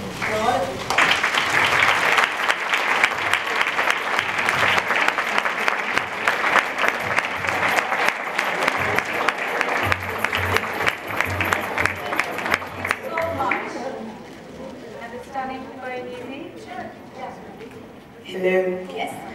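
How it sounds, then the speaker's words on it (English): A crowd at a charity event applauding loudly with sustained clapping for about thirteen seconds, then fading out as a voice begins speaking. "give your own selves a big round of applause"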